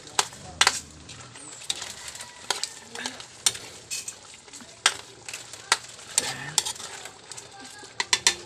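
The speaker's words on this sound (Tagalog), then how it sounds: "Tomato paste para mapula-pula yung sabaw ba, mas malilam ng tignan." Tomato-paste soup stirred and sizzling in a pan, with steady frying crackle and repeated sharp spoon scrapes and clinks against the pan in an irregular rhythm, close and moderately loud, faint birdsong in the background.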